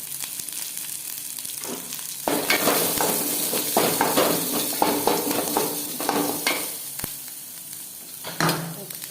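Onion and garlic frying in a pan for chutney, a steady close sizzle with scraping stirs and occasional clinks of the spoon against the pan.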